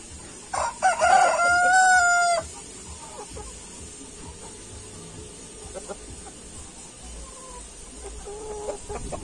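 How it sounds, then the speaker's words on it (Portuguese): Black hens on a farm, with a loud nearby rooster crow lasting about two seconds early on, followed by quieter scattered clucks against faint background noise. "de cá eu tenho essas galinhas pretas que ainda não tá botando ainda"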